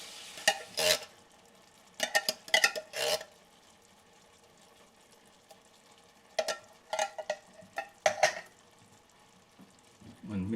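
A spoon stirs kidney beans into a pot of chili con carne, making several bursts of scraping and wet clatter separated by quiet gaps, with a faint sizzle underneath.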